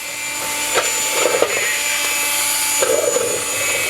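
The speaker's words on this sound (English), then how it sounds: "He's also using a standard Dremel with a cutoff wheel, which, you know, some people may know that it does melt the plastic just a little bit." A standard Dremel with a cutoff wheel cuts plastic, a steady high-pitched whine with brief grinding bursts as the wheel bites in, heard up close.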